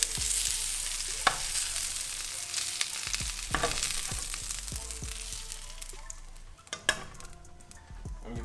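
Plant-based sausages fry in a greased pan with a close, steady sizzle that fades later on. Sharp clinks and scrapes of a utensil against the pan are scattered throughout, and a low hum runs underneath.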